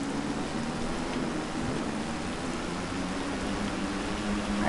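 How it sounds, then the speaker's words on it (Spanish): Steady, dense rain hiss fills the whole stretch, constant and fairly loud, in the motorcycle racing video game Valentino Rossi The Game, with a low rumble of a motorcycle engine beneath. "con la lluvia apenas se oye la moto"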